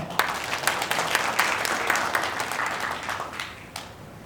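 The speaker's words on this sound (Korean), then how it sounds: "큰 박수 청해 듣겠습니다" Crowd applause at a village community project results-sharing event, a steady wash of clapping from many people with sharper individual claps, tapering off toward the end.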